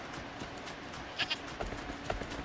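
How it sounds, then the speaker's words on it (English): A goat in the video game Wuthering Waves gives a couple of short, mid-loud bleats over a steady game soundscape of ambient noise and footsteps. "Sup, goat? Frick you, goat."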